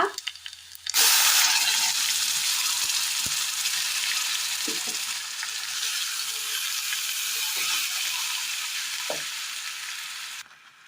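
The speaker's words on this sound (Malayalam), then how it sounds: "നന്നായി ഒന്ന് തിളയ്ക്കട്ടെ." Coconut curry with curry leaves and freshly ground coconut bubbles in a pan, a loud, steady sizzling hiss that starts after about a second, with a few faint clicks and no talk.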